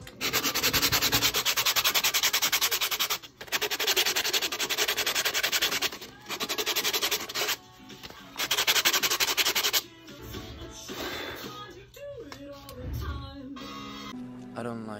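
Sanding a paper mache vase by hand, a loud, steady rough scraping rubbing in long strokes that gives way to quieter handling noises and faint talk near the end.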